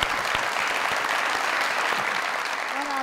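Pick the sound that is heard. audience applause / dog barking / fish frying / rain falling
audience applause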